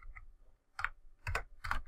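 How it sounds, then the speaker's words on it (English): Typing on a computer keyboard, heard as a few close, crisp key clicks in short irregular bursts with pauses between them, alone without talk. "Oh, hang on, I wasn't typing."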